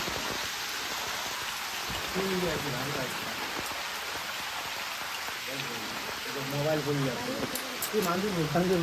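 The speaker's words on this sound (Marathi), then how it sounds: "किती पाऊस आला" Heavy rain pours down in Konkan in a dense, steady roar while people talk intermittently over it.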